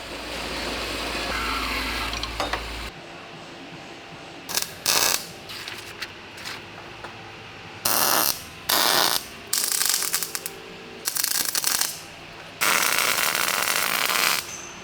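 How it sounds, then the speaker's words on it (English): A ratchet undoes the output gear retaining nut on a StuG III gearbox with a workshop-made tool. It gives repeated close bursts of sharp clicking separated by brief pauses. "going to start by making a tool that will undo the retaining nut"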